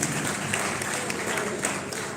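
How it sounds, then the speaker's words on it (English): Audience clapping for a young man at a live public event with Jimmy Wanjigi, a dense, steady burst of many hands filling the room, moderately loud, with some voices mixed in. "Give him a big clap, that young man."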